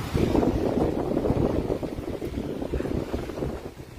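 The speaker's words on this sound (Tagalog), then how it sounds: "Sobrang lakas ng hangin." Loud, gusty wind roaring and buffeting the microphone nonstop during a tornado warning in East Texas, with low rumbling that swells and eases slightly toward the end.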